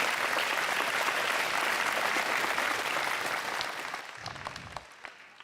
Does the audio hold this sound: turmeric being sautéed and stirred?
no